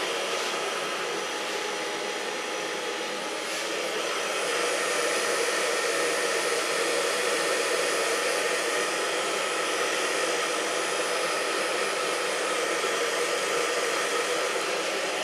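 A hair dryer runs steadily and loudly close by while hair is dried by hand for a colored mohawk, a constant whooshing roar with only slight shifts in airflow.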